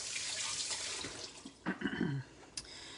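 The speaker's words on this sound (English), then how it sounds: "let me rinse my fingers off." Fingers rinsed under a running kitchen tap while cooking beef stew, a close steady hiss of flowing water broken by splashes and gurgles as hands move through the stream.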